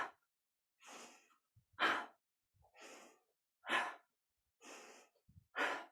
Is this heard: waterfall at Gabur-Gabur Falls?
no